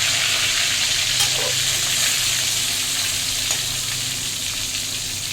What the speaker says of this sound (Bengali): মাছগুলো ভাজা হয়ে গেছে আর পেঁয়াজ দিয়ে নিয়েছি পেঁয়াজটা একটু নুন দিয়েছি